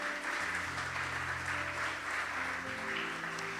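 A church congregation claps for the Lord, a dense, even wash of applause lasting a few seconds, moderately loud, with faint sustained organ or keyboard tones underneath.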